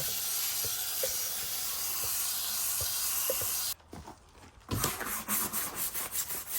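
A spray bottle hisses steadily, damping down a rusted, peeling chrome truck wheel for about four seconds, then breaks off into several short, close bursts of spraying.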